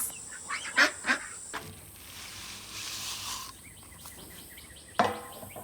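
Young Muscovy ducklings give a few short, faint calls: a couple close together early on, then one more near the end, over quiet outdoor background noise.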